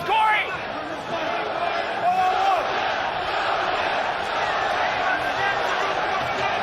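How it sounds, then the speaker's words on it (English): Arena crowd at the Coca-Cola Arena in Dubai chanting for MMA fighter Dovlet Yagshimuradov during a bout, a broad roar of massed voices filling the space beneath close commentary. "hearing the chants raining down from the Coca-Cola Arena crowd"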